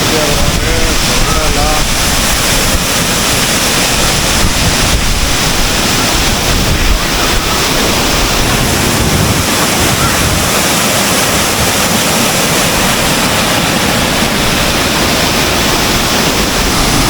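Sirimane Falls roaring in monsoon flow, a loud, dense, unbroken rush of falling water close by, with wind buffeting the microphone and a voice talking faintly underneath.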